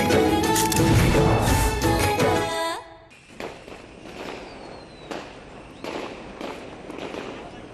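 Firecrackers set off during a celebration in a Hindi TV drama: a dense, loud crackling barrage that cuts out abruptly, followed by scattered sharp pops and bangs at moderate distance.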